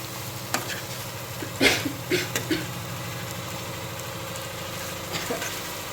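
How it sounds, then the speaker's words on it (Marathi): Stuffed ridge gourd sautéing in a pan, a low steady sizzle with a few soft clatters and scrapes of stirring, fairly quiet and without talk. "जरा चांगलं परतून एक दहा मिनिटासाठी ह्याला आपण वापरून घेऊ"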